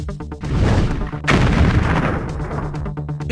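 Tank cannon fire in a Puppy Patrol cartoon adventure game for kids, a rumbling boom followed by a second heavy blast and crackling explosion debris over a short stretch, loud and close.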